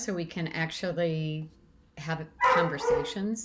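A dog in the background lets out barks and yips beneath someone talking on a video call, the barking rising again after a brief pause in her speech.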